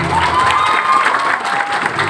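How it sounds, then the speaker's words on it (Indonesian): Audience at an Islamic lecture in Indonesia claps, a short, close burst of crowd applause with a murmur of voices. "Coba tepuk tangannya lebih kencang sedikit"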